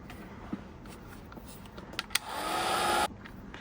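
A hair dryer blows to dry paint, coming on as a steady whoosh for under a second near the end and then cutting off, with a few soft taps and clicks before it starts.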